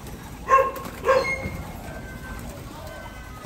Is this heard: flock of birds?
yes